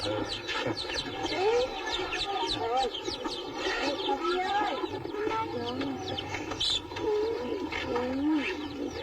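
Chickens kept on a farm at a camp cluck and call steadily through a busy outdoor scene, with other birds chirping and cooing around them and people talking in the background.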